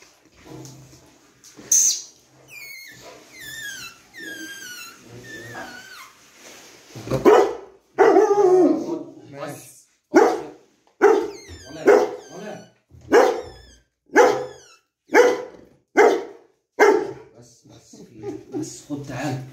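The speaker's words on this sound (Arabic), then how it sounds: "الكلب بيهوهو" A dog barks again and again in a steady rhythm, about ten loud, close barks, along with earlier whimpering yips while people talk.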